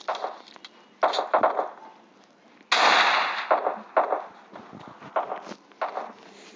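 Gunfire in the mobile game PUBG Mobile Lite, a series of sharp, loud bursts and single shots at irregular intervals, with softer movement sounds between them.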